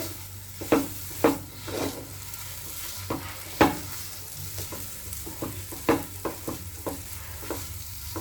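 Pea filling for kachori sizzles softly in a frying pan as it is stirred. A spatula scrapes and taps against the pan at irregular intervals over a steady, faint frying hiss.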